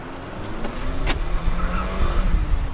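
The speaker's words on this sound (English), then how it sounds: "We got some spin of the tires." A Honda City Turbo II on narrow 155 Pilot Sport 4 tires pulls away with a steady engine drone and a brief spike of tire noise about a second in, the engine loud and close throughout.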